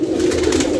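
A brief, close pigeon coo, a low soft throaty hum holding steady for under a second, alone without speech.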